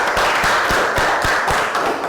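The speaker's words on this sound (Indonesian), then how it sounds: "tepuk tangan untuk Kutsia" Classroom of students clapping for a classmate, a fairly steady run of distinct claps at a moderate pace, close and loud with a constant room hiss underneath, no talking.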